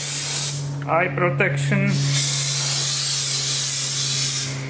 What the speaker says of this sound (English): that brake clean, right, the can of brake clean